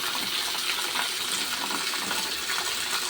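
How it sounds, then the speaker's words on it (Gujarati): A steady, close gush of water pours into a cattle trough at a cow shelter, running continuously without voices. "જો આ સંધુભાઈ નાગલાએ પાણી ચાલુ કર્યું છે"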